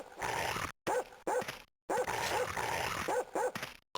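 Several attack dogs in the video game Ballistic bark and snarl in quick, choppy bursts, close and loud, with short gaps of silence between the barks.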